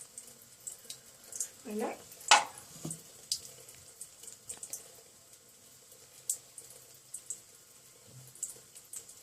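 Soapy fingers are rubbed under a running kitchen-style tap, with soft water splashing and trickling, a few louder splashes and small drips, and a brief spoken word near the start.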